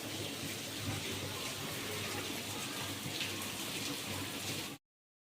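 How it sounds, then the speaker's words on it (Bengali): Heavy downpour hisses as a dense, steady wash of falling rain, fairly faint and even throughout before cutting off abruptly near the end, with no voices. "দেখলে তো মুষলধারার মতন বৃষ্টি হচ্ছে"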